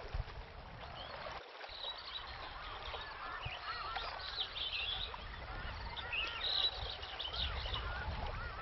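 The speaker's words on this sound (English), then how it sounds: "This place is flooded with over 170 species of resident and migratory birds." Distant birds call and honk over a low boat engine hum in the mangrove creeks of Bhitarkanika, Odisha, with scattered chirps rising above the steady background.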